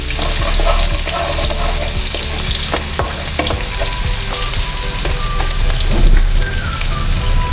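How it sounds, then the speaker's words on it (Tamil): Small shallots sizzle and fry in hot oil with popping mustard seeds, a loud, steady crackling hiss with sharp spits and the occasional scrape of stirring, no voices. "இப்போ சின்ன வெங்காயம் கட் பண்ணி வச்சுருக்க வெங்காயத்தை சேர்த்துடலாம். கொஞ்சம் நேரம் வதங்கட்டும்."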